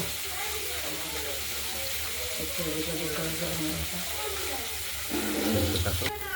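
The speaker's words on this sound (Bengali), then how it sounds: "মাছগুলো আমরা প্রথমে ভেজে নেব।" Pieces of catla fish frying in oil, a steady close sizzle and crackle that keeps going throughout, with a few clatters and a louder burst near the end.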